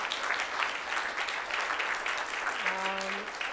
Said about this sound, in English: would you like to clap for Pat again?